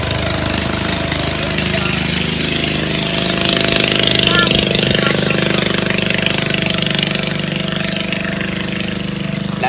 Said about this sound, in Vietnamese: Lại chiếc ghe ồn quá.